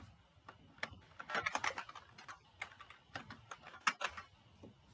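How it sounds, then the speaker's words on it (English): Quick bursts of typing on a computer keyboard, with irregular clusters of light clicking keystrokes close to the microphone and short pauses between them. The sound is fairly quiet, with no talking. "Really good at typing."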